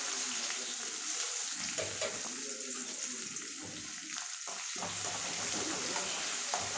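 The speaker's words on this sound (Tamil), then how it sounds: "இப்போ வெங்காயம் வரமிளகாவும் போட்டலாம்." Onions and dried red chillies fry in a pan of hot oil with mustard seeds and cumin powder, giving a steady, continuous sizzle with occasional stirring clatter, close and fairly loud throughout.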